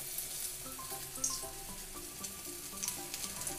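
Sweet potato snack balls fry in hot oil with a steady, close sizzle and fine crackling that holds evenly throughout, with no voices.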